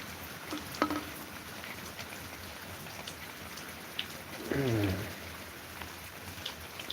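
Steady rain patters outdoors during a thunderstorm, with faint drops and a brief low rumble partway through.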